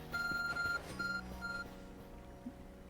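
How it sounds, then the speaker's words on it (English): Arc phone in the Pokémon Legends: Arceus video game beeping: three steady electronic tones in a quick repeating pattern over soft game background music, clear and fairly loud, then fading out. "Your arc phone is beeping."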